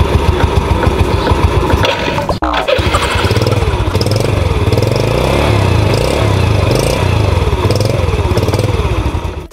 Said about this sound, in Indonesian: Kalau yang ini suara langsamannya halus banget teman-teman.